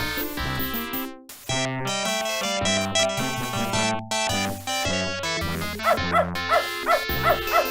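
A dog in the point-and-click game Beneath a Steel Sky barks in a quick series of sharp yips near the end, over a dense, loud piano-like musical backdrop.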